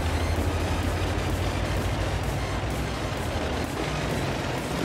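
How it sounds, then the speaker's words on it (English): Artillery fire and explosions in the tank battle game World of Tanks, with low rumbling booms and dense repeated impacts forming a loud continuous barrage, with no talking. "I'm gonna want to watch out for the artillery"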